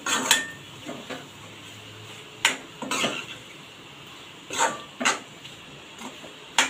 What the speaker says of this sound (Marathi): काजू चांगले फोडणीमध्ये मिक्स करून घ्यायचे